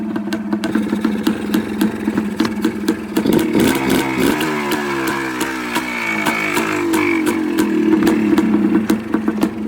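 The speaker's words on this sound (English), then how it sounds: "the idle's kind of low, but I'll just get that set right away" A rebuilt Yamaha Blaster engine idles low and close with an uneven, popping putter, rising into a few brief throttle blips midway before dropping back to its loping idle.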